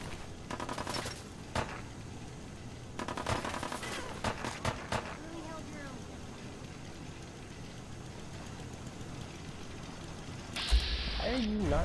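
Shots from a new gun in the video game Fallout 4, clustered bursts of rapid fire separated by quieter stretches of game ambience, with a person talking intermittently.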